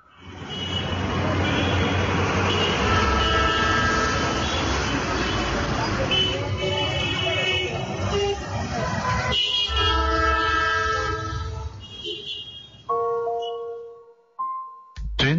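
A busy railway station, Howrah station, with a loud continuous rumble of train and crowd, then a horn sounding in tonal bursts toward the end, while a voice talks over it.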